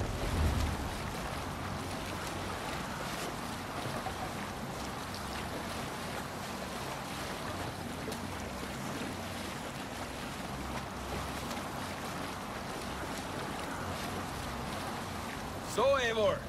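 A Viking sailboat moves across open sea in a video game, with a steady wash of waves and wind rushing past the hull throughout, broad and constant, ending with a brief tonal flourish.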